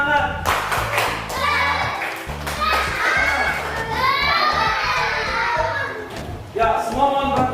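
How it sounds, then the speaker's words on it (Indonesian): A group of children in a classroom clap in a rhythmic pattern while voices shout and chatter over it, lively and close. "coba sebelum lanjut tepuk semangat"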